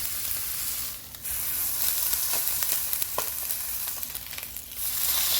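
Steak fat searing in a hot pan, a dense continuous sizzle and crackle with scattered pops, fairly close and steady for about five seconds with a brief dip near the start.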